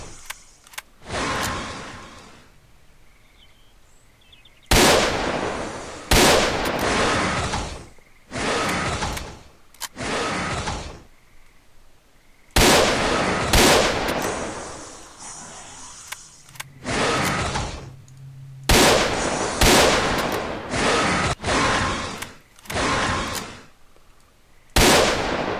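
Gunfire in S.T.A.L.K.E.R. Call of Pripyat with the Arsenal Overhaul mod: loud, close bursts of shots fired in irregular clusters, with short quiet gaps between volleys.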